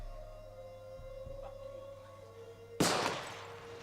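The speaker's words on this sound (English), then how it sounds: "The echo of the gunshot." A single sharp gunshot bursts out in a film after a quiet stretch with a low steady tone, followed by a short decaying echo.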